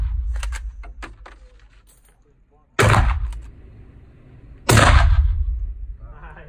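Two loud, close gunshots from large firearms at a shooting range boom out a couple of seconds apart, each with a long rumbling tail, after some brief handling clicks.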